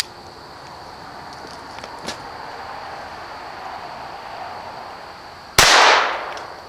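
A single sharp gunshot from a Taurus TX22 pistol firing CCI standard ammunition cracks loudly near the end after quiet outdoor background, its report decaying briefly.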